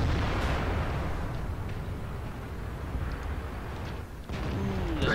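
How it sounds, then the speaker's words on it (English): Artillery fire in the World of Tanks tank game, heard as a heavy, sustained rumbling roar of blasts that holds steady throughout, with a brief dip near the end. "there's that artillery I was talking about"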